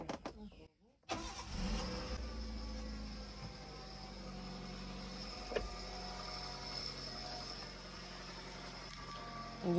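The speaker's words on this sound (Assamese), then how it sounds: "ইঞ্জিনৰ চাউণ্ডটো শুনা পাইছেনে?" A Maruti Swift Dzire petrol engine with 97,000 km on it cranks and catches after a short silent gap, then settles into a steady, close idle.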